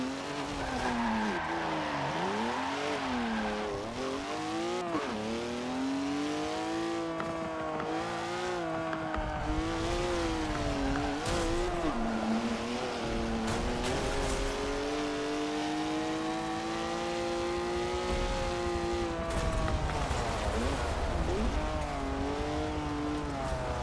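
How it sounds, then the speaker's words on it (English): A car drifting with sustained tyre squeal and a wavering, revving engine, loud and continuous for the whole stretch with pitch sweeping up and down, no voices. "Just drifting now."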